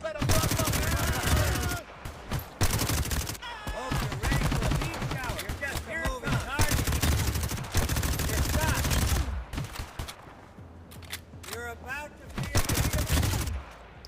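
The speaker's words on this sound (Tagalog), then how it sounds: "Lupit ng barilan nila." Gunfire rattles through a gunfight in the mobile version of the video game GTA V Online, with dense bursts of shots and automatic fire coming loud and near in several volleys separated by brief pauses.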